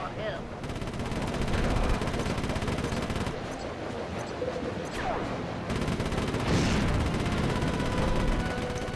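Loud, continuous rapid gunfire from cannon fire in the video game Sly 3, with dense bursts of shots rattling without pause across the whole stretch.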